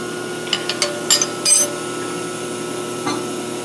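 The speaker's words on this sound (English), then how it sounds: "you want to loosen the through bolts" A wrench loosens the through bolts on a split-casting Maka mortiser, giving a few brief, faint metallic clicks and ratchet-like ticks over a low steady hum, with no talk.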